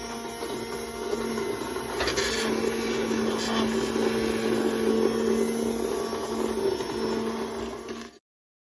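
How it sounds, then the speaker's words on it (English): An immersion blender whirs steadily for several seconds through roasted Hatch chile soup, a constant motorized drone with a little rattle, then cuts off abruptly. "Time to take the immersion blender here, and we're going to blend our soup."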